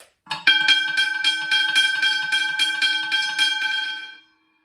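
A first-generation Westinghouse hybrid bell rings with its gong fitted, a rapid, even train of bright metallic strikes lasting about four seconds, loud and close before stopping cleanly.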